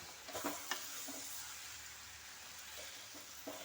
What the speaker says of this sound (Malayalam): വീണ്ടും നമ്മൾ അത് ഇളക്കി കൊടുക്കുക നല്ലപോലെ